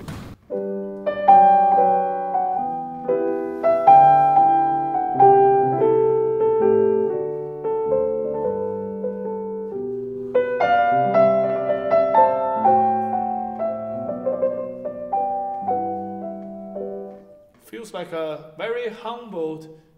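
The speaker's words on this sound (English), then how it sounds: "So now we have the Sinfonia from the Christmas Oratorio." The Sinfonia from Bach's Christmas Oratorio BWV 248 unfolds in a gentle orchestral recording with sustained, flowing melodic lines, fading out before a voice briefly speaks at the end.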